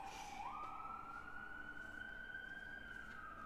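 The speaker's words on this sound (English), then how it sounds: "there's always sirens in the background here in New York City" An emergency vehicle siren wails through New York City streets, one sustained rising and steady tone over constant traffic noise, moderately distant and with no talk.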